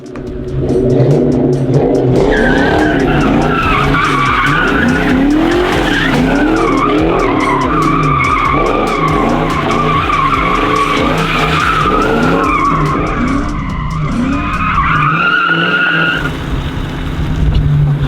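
A Ford Mustang revs hard and drifts, tires skidding and squealing loudly and continuously with the engine surging up and down.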